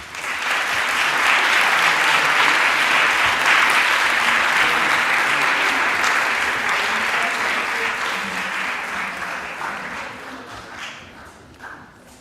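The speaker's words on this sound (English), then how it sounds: "join me for a round of applause for Christ University from India" Audience at a sports arbitration moot closing ceremony applauding a university team, a long sustained round of clapping that swells, holds and slowly tapers off toward the end.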